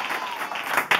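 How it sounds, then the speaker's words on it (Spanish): A comedy show audience breaks into brief applause, a dense wash of clapping that swells toward the end of the short burst. "¡Aplauso!"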